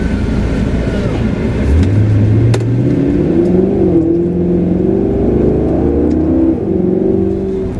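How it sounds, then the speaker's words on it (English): A 2013 Maserati GranTurismo V8 revs moderately in traffic, its engine note rising smoothly from a low rumble into a steady, louder drone heard from inside the cabin, held below high revs. "I don't want to rev it too high here in traffic"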